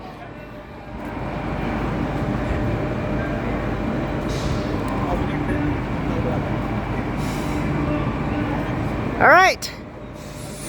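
Transperth A-series electric train departing the new Midland Station, a steady low rumble and hum of motors building under the carriage, with a short rising electronic whine near the end and a voice briefly exclaiming.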